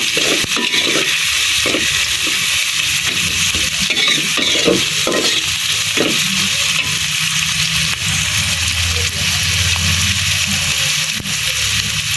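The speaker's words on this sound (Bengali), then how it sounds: "এখন এই পেঁয়াজ আর রসুন কুচিগুলোরে ভালো করে একদম" Chopped onion and garlic sizzle in a pan while being stirred for a snakehead fish and yardlong bean curry, a loud steady fry broken by a rhythmic series of scraping spatula strokes.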